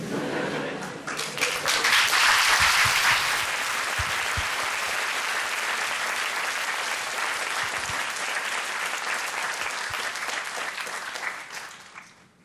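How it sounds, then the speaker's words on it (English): A university lecture-hall audience at HKUST breaks into sustained applause, a dense wash of many hands clapping that swells quickly, holds steady for several seconds, then fades out at the end. "let's give them a round of applause"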